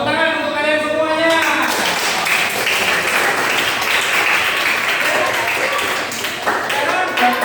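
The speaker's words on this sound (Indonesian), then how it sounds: "Tepuk tangan untuk kalian semuanya" A classroom of students claps together for several seconds, dense and steady, with a teacher's voice briefly audible at the start over the applause.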